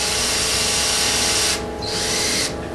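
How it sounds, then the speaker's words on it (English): Power drill boring through the head of a rivet on a boot cowl, a loud steady high-pitched whine that dips briefly and then resumes, close and alone. "we're going to drill down till we're through the head part of the rivet only"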